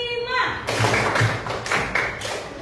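Class of students clapping together in a five-count classroom clapping game, several loud unison claps in a steady beat, over background voices, after a brief tonal sound at the start.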